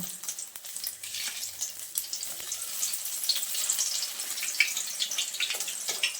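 An egg omelette with potato sizzles steadily in a hot pan while a spatula folds and scrapes it, giving a continuous bright crackle with occasional scraping strokes and no talking.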